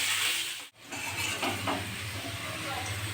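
Potato pieces frying in a pan while a spicy fish curry is prepared, giving a steady close sizzle with a brief break, then continuing with faint stirring scrapes and no talking.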